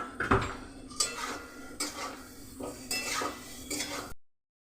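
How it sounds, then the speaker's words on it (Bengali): Fried soybean chunks and potatoes are stirred in a pan with tomato masala, giving a close, rhythmic run of metal scraping and clinking strokes with faint sizzling and no talk. "আমি দিয়ে দিচ্ছি এবারে সয়াবিনটা আর আলু ভাজাগুলো"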